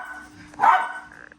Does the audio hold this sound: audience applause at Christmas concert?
no